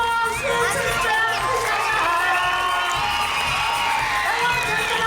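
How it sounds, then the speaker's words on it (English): Crowd at a live Brave Wilderness tour show cheering and shouting loudly, with children's voices among the whoops, a dense continuous roar that holds for several seconds. "big round of applause"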